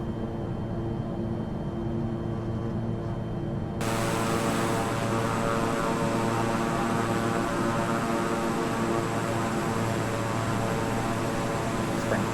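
Beechcraft King Air 350i turboprop engines in a flight simulator, a continuous loud droning hum with a steady whine, brightening abruptly a few seconds in and holding evenly to the end.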